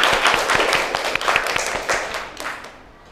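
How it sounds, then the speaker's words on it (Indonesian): Students in a classroom applauding a classmate, a burst of rapid, close clapping from a small group that thins and fades away over about three seconds. "Tepuk tangan dulu untuk temannya."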